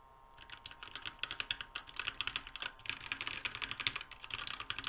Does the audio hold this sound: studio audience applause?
no